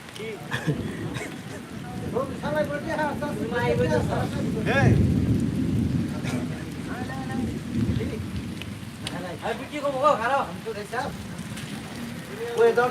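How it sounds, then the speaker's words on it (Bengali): Heavy rain pours steadily with gusty wind in Tangail, Bangladesh, rolling thunder swelling in the middle, while voices talk intermittently over the downpour. "ভারী বৃষ্টিপাতের সাথে বজ্রপাত হচ্ছে"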